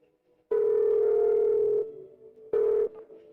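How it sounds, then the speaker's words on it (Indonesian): Telephone tone heard while placing a call, a steady pure beep held for over a second, then a pause and a shorter second beep, clean and close. "Aku akan telepon dia dan tanya."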